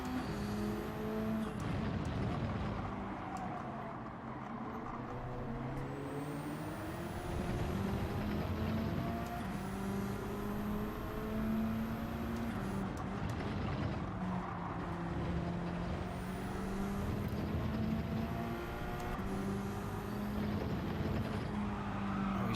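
Race car engines drone and whine as cars drive around a track in Gran Turismo 7, with rising and falling engine tones and gear shifts, loud and continuous throughout.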